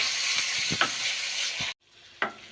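Minced meat (keema) frying in a pan, a continuous loud sizzle broken by a few scraping stirs and a short pause before another stir, close up with no voices.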